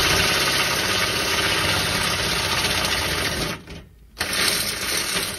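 A power drill boring a 9 mm hole through a plate with an old bit, a loud, continuous close whirring grind that briefly drops out and then resumes at full strength.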